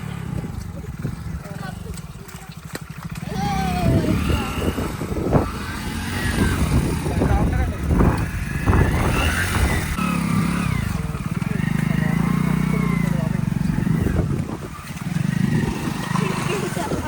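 A motorcycle engine labours and revs over a pothole-ridden rough road after a cyclone, with loud rumbling and bumping close by while voices talk over it.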